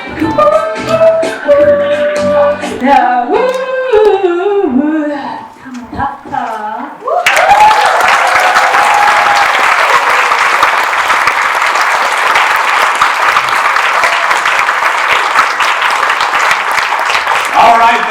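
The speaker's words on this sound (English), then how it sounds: "Keep that applause going." An audience at a special needs talent showcase breaks into loud, sustained applause and cheering after a sung performance, the clapping steady and close for over ten seconds following a few seconds of singing.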